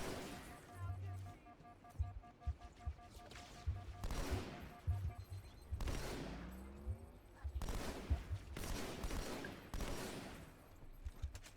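Gunfire in the Halo 2 Metropolis campaign, repeated bursts and single shots of varying loudness with some explosive thuds, mixed with game effects throughout.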